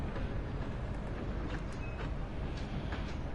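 Heavy train rumbling steadily in the Red Dead Online video game, a dense low roar of wheels and carriages filling the whole stretch, loud and close with no pauses.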